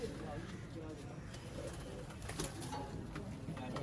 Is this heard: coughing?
no